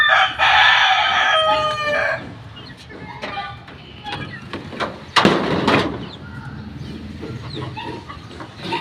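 A Boston Roundhead rooster crows loudly nearby, followed by scattered clucks, thumps and a brief bark-like noise in the background.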